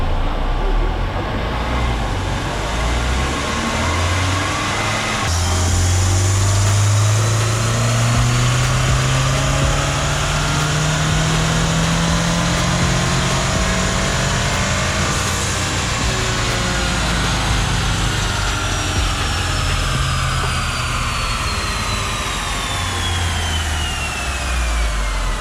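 2021 Acura TLX A-Spec engine on a dyno pull on its stock tune, loud and close, rising steadily in pitch as revs climb over many seconds, with roller and drivetrain whine beneath, no voices.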